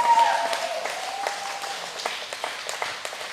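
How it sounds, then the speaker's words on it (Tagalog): A congregation at a Valentine's Day church healing service applauds in praise. The steady, moderately loud clapping continues throughout and gradually thins toward the end. "Yung palakpak nyo, panggalingin sa puso."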